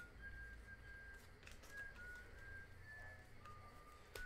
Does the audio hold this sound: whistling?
yes